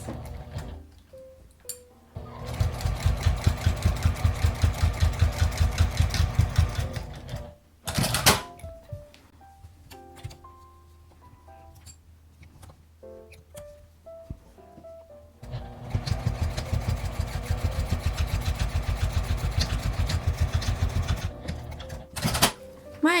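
A sewing machine stitches fabric for a small fabric wallet in two loud, rapid mechanical bursts, backstitching to secure the seam. Quiet handling noises and short pauses separate the bursts.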